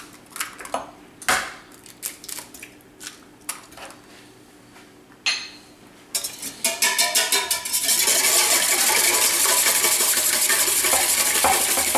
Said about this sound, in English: So you're going to want to beat your eggs in here first.